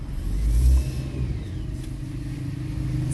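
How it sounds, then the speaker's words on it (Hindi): A hybrid car's engine revs up loudly at close range, then eases off as the gas pedal is released, settling into a steady mid-pitched running rumble. "ऐसे रेस दे के छोड़ रहे हैं, रेस दे के छोड़ रहे हैं, इंजन के ऊपर ला रहे हैं गाड़ी"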